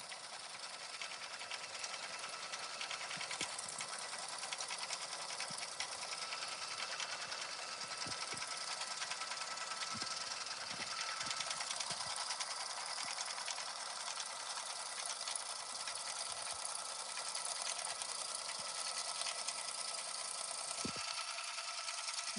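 An embroidery machine stitches the background fill of a patch with a continuous, even, fast whirring hum and faint mechanical ticks throughout, steady and close, with no voices.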